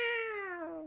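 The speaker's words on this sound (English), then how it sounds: "he goes meow meow meow when you Gigantamax him" Meowth's cry from a Pokémon video game, a single drawn-out meow with bright harmonics that slowly drops in pitch, sounding clear and close with no talk over it.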